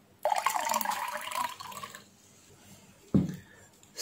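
Water is poured into a container fitted with a liquid level sensor, a splashing gush lasting under two seconds that then fades, followed by a short, low thud and a bit of dripping.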